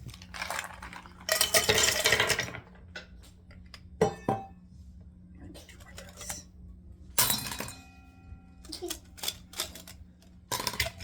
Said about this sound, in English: Step 2, ice your glass.